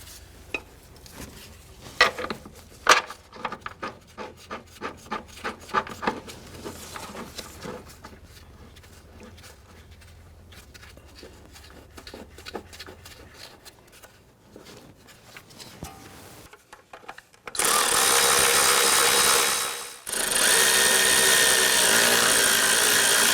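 An upper control arm bolt goes in on a 2004-2008 Acura TL's front suspension: a series of close metallic clinks and ratchet clicks, then quieter tool handling, ending in a loud sustained whir of a power tool.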